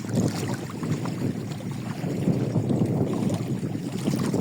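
Steady wind gusting over open water beside a boat, a broad continuous rushing roar with buffeting rumble on the microphone, loud and unbroken throughout, no voices.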